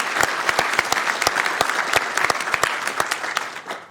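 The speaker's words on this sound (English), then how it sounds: "let's give him a big round of applause as well" Round of applause at a Sacramento City Council meeting, many hands clapping in a moderately dense crowd with distinct individual claps popping out, steady for several seconds and tapering slightly at the end.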